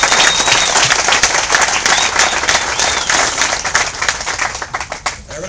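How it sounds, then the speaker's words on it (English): Outdoor crowd at a welcome event in Richardson Park claps in a loud, dense burst of applause that gradually thins and fades toward the end. "let's give them a round of applause."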